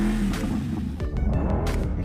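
A sports car engine revs hard inside the cabin during a comparison of a Mercedes SLR McLaren, Ferrari GTC4 and Aston Martin DBS, a loud sustained growl with rising and falling pitch and a steady heavy rumble.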